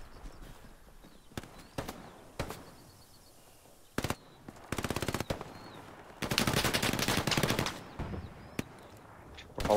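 Bursts of machine gun fire in the WWII shooter Hell Let Loose, with a few isolated distant shots and then two longer, loud rattling volleys, one of them sustained for about two seconds, with no talking.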